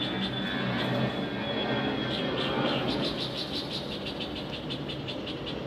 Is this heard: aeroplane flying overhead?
yes